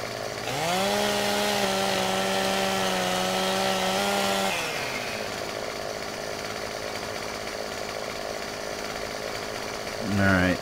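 A chainsaw in Farming Simulator 15 revs to a loud, steady buzzing whine for about four seconds, then drops back to a low idle rumble.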